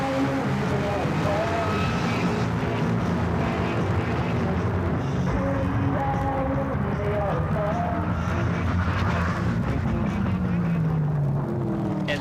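A 2,000 horsepower fiberglass-bodied funny car, built on a short wheelbase dragster, roars continuously with a rough, heavy engine note that shifts pitch over several seconds.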